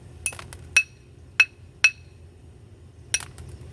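Sharp glassy clinks and taps of knapping the edge of a glass heart, five separate strikes spaced irregularly, close by against a quiet background.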